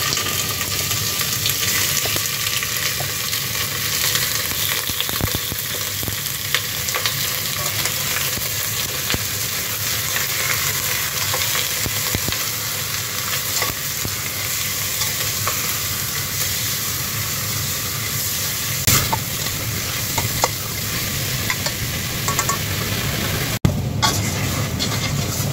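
Chicken buto-buto sizzles in a pan with browned garlic and onion, giving off a continuous dense crackle and hiss with occasional scraping stirs. The steady frying noise stays close and loud throughout, with no talk.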